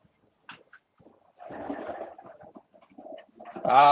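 Racing pigeons in a darkened loft coo and shuffle softly nearby, low murmuring calls building toward a louder, clearer coo at the end.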